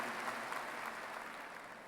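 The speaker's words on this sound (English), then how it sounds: "Let's give them a round of applause, please." A crowd applauds at the North Carolina A&T State University 2017 spring commencement, a brief, faint wash of clapping heard from a distance.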